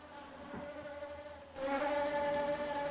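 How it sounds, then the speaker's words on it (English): A wasp buzzing right against a camera, a steady close droning hum that grows louder and fuller halfway through as it presses nearer, with no talking. "there's a wasp on my damn camera"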